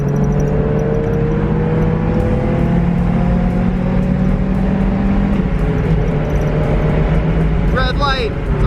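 A Nissan 350Z with low oil pressure drives and accelerates, its loud steady engine drone rising gradually in pitch, with a brief hiss near the end and a voice talking over it.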